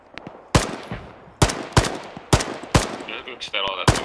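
Sharp gunshots ring out in the military game Arma 3: about six loud, cracking reports at irregular intervals over several seconds. A brief radio-like tone sounds near the end.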